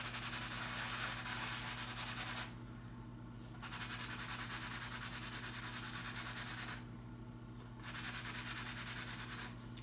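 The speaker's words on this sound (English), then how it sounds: "So I just erase it very easily. This is the sandpaper." Sandpaper rubs a stone seal in fast, even strokes, loud and close. The rasping stops briefly twice, then starts again.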